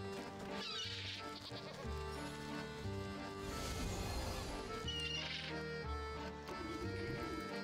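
Sheep bleats from the video game Wytchwood sound over a steady bed of game music, several calls spread across the stretch at moderate loudness.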